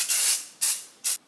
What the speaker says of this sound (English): it feels like I am spraying hairspray on my face